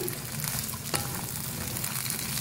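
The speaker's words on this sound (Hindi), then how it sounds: "अब इसको फ्राई करेंगे। जैसे भिंडियाँ हमारी फ्राई हो जाएंगी इसको निकाल लेंगे।" Sliced okra (bhindi) fries in hot oil with a dense, continuous sizzle close by and one brief utensil tap partway through.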